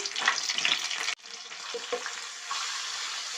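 Curry leaves, ginger, salt and turmeric frying in oil for raw mango sambar, a steady close sizzle that drops sharply as the ingredients go in, then settles into a quieter, even crackle with a few stirring clinks.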